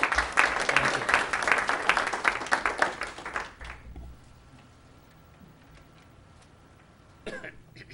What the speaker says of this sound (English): We have a round of applause for.